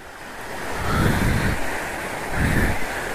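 An outdoor waterfall in Keonjhar, Odisha, seen from a bridge, heard as a loud steady rushing roar that swells and eases in slow surges, with wind buffeting the microphone.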